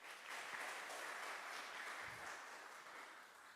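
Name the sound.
audience applause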